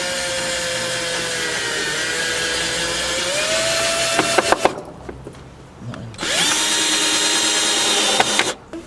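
A power drill drives a self-tapping screw into a Ford Fiesta ST150's wheel arch to fit a mud flap, in two loud whirring bursts with rising pitch and a brief pause between, close by.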